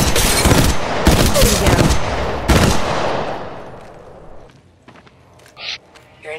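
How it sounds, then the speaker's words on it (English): Bursts of gunfire in Apex Legends, loud rapid automatic volleys in several clusters over the first few seconds, then fading to scattered faint shots and clicks with brief game voice lines and effects near the end. "Opening fire."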